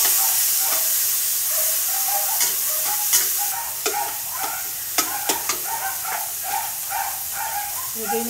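Tomatoes sizzle steadily in a hot pan, a close hissing fry with faint scraping stirs and small pops from the pan.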